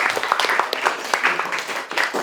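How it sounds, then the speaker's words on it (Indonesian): A classroom of children gives a short burst of applause, with dense, quick clapping that keeps going for a couple of seconds. "Tepuk tangan buat Rafka."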